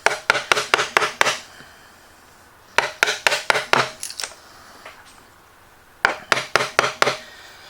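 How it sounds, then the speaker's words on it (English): Hand-chopping out wood with a chisel and mallet for a router table's mobile base: three bursts of sharp, loud wooden strikes, each a quick run of four to six blows, separated by pauses and a few lighter taps. "And then you can begin chopping out a little bit at a time."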